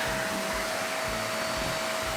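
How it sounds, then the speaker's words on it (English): A vacuum cleaner runs steadily while sucking lint and hair out of the inside of used cowboy boots, a loud continuous whine and roar with a rhythmic low fluttering as the nozzle moves, with no voices. "it doesn't hurt to run a vacuum in them real quick to get all that lint and hair"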